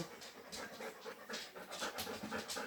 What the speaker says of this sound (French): Donc ça, c'est les chiens.